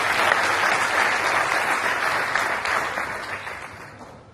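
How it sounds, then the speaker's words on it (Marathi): Sustained applause from an audience at a Nagarik Social Foundation lecture series event, steady and dense clapping that fades slightly toward the end, with no talking over it. "सगळ्यांच्या वतीने त्यांचं टाळ्या वाजवून अभिनंदन केलं पाहिजे"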